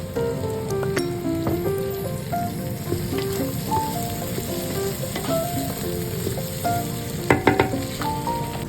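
Japanese fried rice made with sticky rice and hot chili sauce sizzles steadily in a pan, a dense, close crackle. Brief clinks and stirring knocks rise above it, with no one talking.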